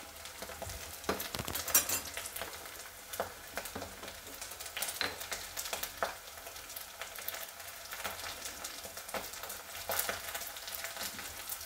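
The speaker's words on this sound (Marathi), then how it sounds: "आता बघा हिंग घालायचं आहे।" Asafoetida drops into hot oil while pithla is being made, giving a continuous crackling sizzle with bright spitting pops and occasional stirring, close and moderately quiet, with no voices.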